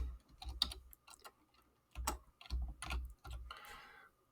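Bursts of keystrokes on a computer keyboard while Python code is entered, clustered clicks arriving in quick uneven runs with brief pauses between, close and fairly quiet with no voices.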